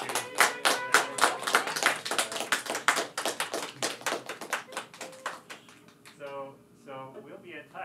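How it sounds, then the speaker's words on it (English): A small workshop audience claps at the close, a brisk round of close hand claps that thins out and gives way to a voice speaking. "let's give a round of applause"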